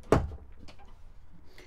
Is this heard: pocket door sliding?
yes